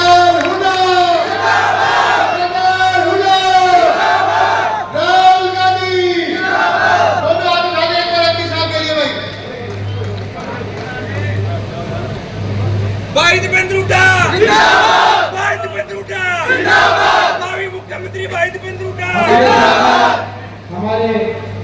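A crowd at a Haryana Youth Congress political rally roars with rhythmic chanting and cheering in repeated loud bursts over a steady electrical hum, with someone shouting over them through an amplified microphone.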